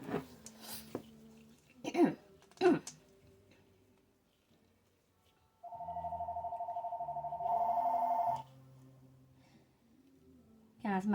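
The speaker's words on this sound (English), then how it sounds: "Guys, my phone's ringing." A mobile phone rings in a home craft space, a steady electronic tone pulsing twice in succession after a few brief words and short sounds at the start.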